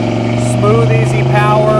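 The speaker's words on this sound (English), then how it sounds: "We're gonna go ahead and roll into the throttle here, pull out this traffic." A 1984 Chevrolet Monte Carlo with a 305 V8 and automatic transmission accelerates out of traffic, its steady mid-pitched engine drone building under a man's close, continuous talking.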